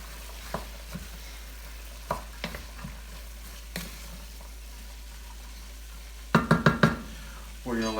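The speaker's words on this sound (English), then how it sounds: "Give it a stir." Diced onion, celery and carrots with oregano stirred in a pot: sparse spoon scrapes and taps over a faint sizzle and a low steady hum, followed by a louder cluster of clattering knocks toward the end.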